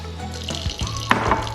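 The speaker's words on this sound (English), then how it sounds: "you turn on a little stream of water," A thin stream of water runs from a kitchen tap into a container of rice, with soft splashing and a few brief drips and clinks, close and fairly quiet.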